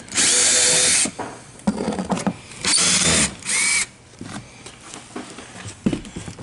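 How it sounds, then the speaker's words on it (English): A power drill backs screws out of an aluminum roof truss on a 2013 Heartland Gateway RV during a roof replacement, giving several loud, close whirring bursts of about a second each, separated by short pauses and clatter. "We just got a few of these screws we're taking out."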